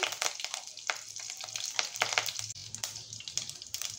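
Mustard seeds, cumin and curry leaves crackle and sizzle in hot oil for a ridge gourd stir-fry, with dense spattering bursts and sharp pops running steadily close up, no voices.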